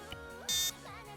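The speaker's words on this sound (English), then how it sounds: "that beep sound when I enter the trigger" A short electronic beep fires from a trigger in Arma 3, one bright tone standing out over a low game background hum.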